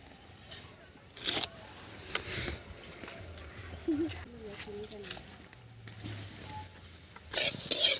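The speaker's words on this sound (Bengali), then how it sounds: "আলু বিনস ভাজা হয়ে গেছে" Potatoes and beans frying in a pan sizzle and are stirred, with scraping and clinking strokes coming through in bursts and some voice sounds mixed in nearby.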